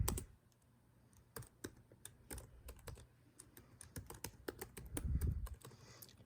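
Someone types a command on a computer keyboard, with quiet irregular key clicks in quick clusters and brief pauses, close by and alone.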